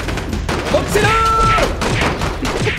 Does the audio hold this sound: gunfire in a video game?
yes